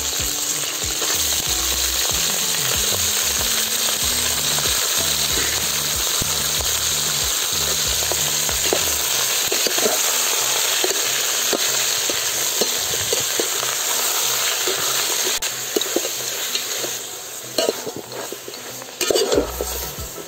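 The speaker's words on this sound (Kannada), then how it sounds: "ಮಟನ್ ಹಾಕ್ತಾ ಇದ್ದೀನಿ. ಮಟನ್ ಚೆನ್ನಾಗಿ ಫ್ರೈ ಮಾಡಬೇಕು ಎಣ್ಣೆ ಈರುಳ್ಳಿಲಿ." Mutton pieces fry in oil with onions for a village-style mutton sambar, giving a dense, continuous sizzle with scraping and stirring knocks against the pot, loud and close, and no talking.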